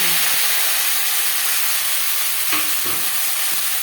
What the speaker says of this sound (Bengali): পাঁচ ফোড়ন তেজপাতা ভেজে নেওয়ার পর দিয়ে দেবো বেগুন